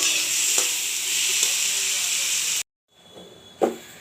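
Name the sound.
onions frying with salt in pan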